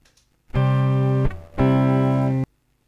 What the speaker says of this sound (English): If we put the attack at release too low, though, you get this horrible distortion too.